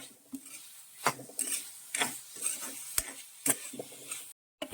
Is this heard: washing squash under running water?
no